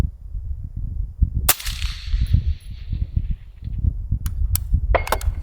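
An AR rifle fires at a target on an outdoor range, one sharp loud report ringing out, followed later by a cluster of quicker cracks over a steady rumbling background.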